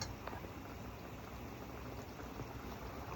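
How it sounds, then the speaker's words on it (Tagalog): Sardines and udon noodles simmering in a pot, a quiet continuous bubbling boil with a soft dense hiss, steady and close, with no talk. "Antayin lang po natin yung kumulo ulit."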